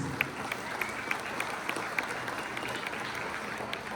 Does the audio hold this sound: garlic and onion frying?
no